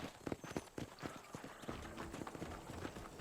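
Horse hooves in the video game Red Dead Redemption on Xbox 360, a quick irregular clip-clop of a horse moving over ground, fairly quiet, with faint background noise.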